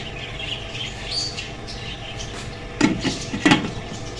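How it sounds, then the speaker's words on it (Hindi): A cooking-pot lid on a pot of chicken for tandoori yakhni pulao clatters twice as it is lifted, two short metallic knocks close by over a low background hum, with no talk. "मैंने इसका कवर उठा दिया"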